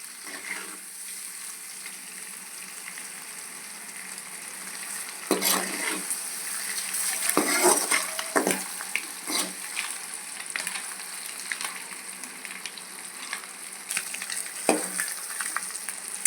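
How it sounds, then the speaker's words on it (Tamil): An egg fry for a spinach sambar meal stirred gently in a hot pan, with steady sizzling under scattered spoon scrapes and clinks that grow busier toward the middle, and no voices. "அப்படியே லைட்டாக லேசாக கிளறி விடணும்"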